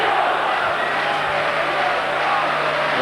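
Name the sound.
boxing arena crowd cheering for Steve Collins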